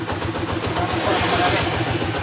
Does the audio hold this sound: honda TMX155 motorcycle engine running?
yes